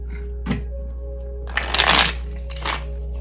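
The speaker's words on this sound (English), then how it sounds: "One shuffle." A tarot deck is shuffled close up in a few quick riffling bursts of papery card slaps, the longest in the middle, over a low steady hum.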